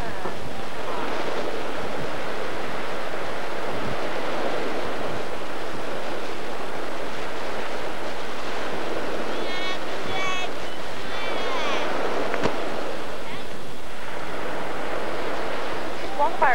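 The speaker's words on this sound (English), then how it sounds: "Miami Beach!" Ocean waves breaking at Miami Beach, a continuous wash of surf under wind buffeting the microphone, loud and close, with faint voices in the background.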